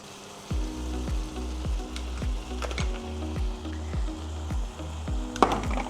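Onions fry in a pan with a steady, loud sizzle, accompanied by regular rhythmic knocks and scrapes of stirring against the pan.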